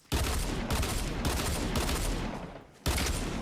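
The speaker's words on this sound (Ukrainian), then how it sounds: "Вон я стріляв якогось чувака, тобто на, навіть на доволі таки е, великій відстані я його вбив без всіляких проблем." Rapid automatic gunfire from the Fortnite video game, loud and sustained in dense bursts broken by two brief pauses, with no talk.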